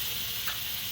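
Butter sizzling in a hot pan with a little oil, a steady bright frying hiss close up and continuous through the moment, no voices.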